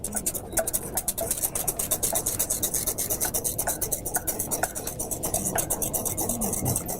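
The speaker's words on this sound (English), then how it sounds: "Just continue stirring this so it doesn't burn at the bottom." A sauce is whisked steadily in a pot, producing rapid, rhythmic scraping strokes against the bottom that continue without pause at close range, with faint voices in the background.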